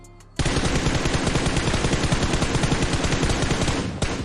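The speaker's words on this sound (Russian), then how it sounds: "Звуки стрельбы и направление, откуда ведется стрельба." Rapid automatic gunfire from the mobile video game PUBG Mobile bursts in suddenly and runs as a continuous loud rattle of shots for about four seconds before cutting off.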